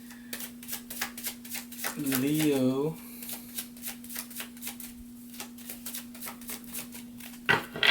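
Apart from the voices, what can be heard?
shuffling tarot cards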